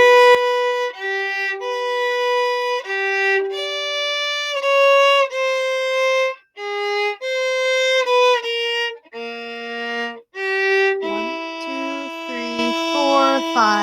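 A violin plays a melodic run of sustained bowed notes, clear and close, alone without talk, with brief pauses between phrases.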